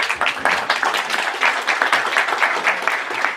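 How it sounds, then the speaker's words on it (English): Audience applause at a Cursor developer meetup in Hamburg, a steady burst of many hands clapping close and fairly loud, filling the room evenly throughout. "Maybe we can clap it up."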